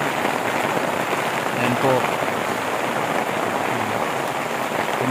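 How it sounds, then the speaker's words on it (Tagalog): Rain drips through a leaking roof into a house, a dense steady patter and hiss of falling water close by, with a person speaking briefly over it. "di pa gaano malakas yung ulan dito. Tumutulo na."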